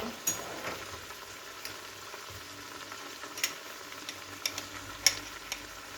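Sucuk and dried beans with dried peppers and chili flakes being stirred and sautéed in a pan, a soft steady sizzle broken by a few sharp scraping clicks of the spoon, fairly quiet and close.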